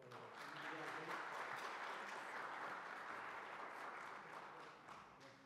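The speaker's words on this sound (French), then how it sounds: "Je crois qu'on peut encore applaudir." A seated audience at a French public talk on customary representation in the overseas territories applauds in a sustained, dense wash of clapping that fades slightly toward the end, heard from across the room.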